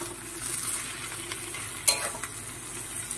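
Ghee goes into a hot pan of banana-flower curry with prawns and is stirred, giving a soft continuous sizzle with a few scraping strokes of a spoon against the pan.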